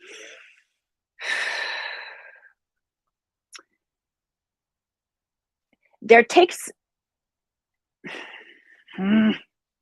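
Deep breaths: a long audible inhale, then sighing breaths and exhalations scattered through the clip, close and fairly loud, with a few short vocal sounds between them.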